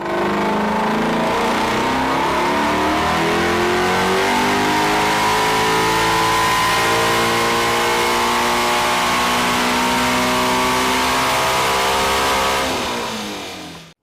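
A car engine revs hard and holds a loud, steady roar for many seconds with rising and falling harmonics, then cuts off abruptly at the end. No voices are heard.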